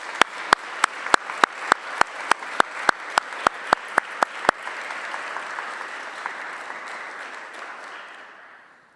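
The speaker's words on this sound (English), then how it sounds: "Can we offer Bernie and his team a round of applause?" Audience applause at an evening soiree recital: sharp, evenly spaced single claps ring out at first, then a full wash of clapping builds and slowly fades away toward the end.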